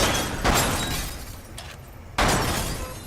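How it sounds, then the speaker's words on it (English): Glass targets shatter in Lethal VR, a virtual reality shooting game: a loud crash of breaking glass, a fainter crack, then another sharp, bright shattering burst close up. "Lots of breaking glass."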